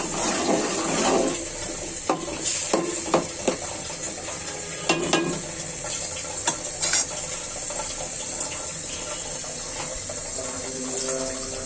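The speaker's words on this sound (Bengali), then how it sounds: "অল্প করে পানি দিয়েছি" Water is poured into a pan of dry loitta fish curry with okra and bitter gourd, bringing a continuous simmering hiss broken by scattered clinks and scrapes of stirring.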